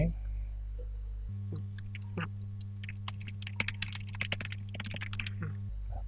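Keys on a computer keyboard clatter in a quick, uneven burst of typing as text is entered while building a Google Site, close and fairly light over a steady low electrical hum.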